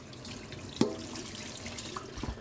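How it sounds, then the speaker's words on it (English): Kitchen tap water running over a colander as it is rinsed during roast dinner cooking, a steady close rush with a sharp clunk of metal early on, no talk. "I'm just going to rinse out my colander."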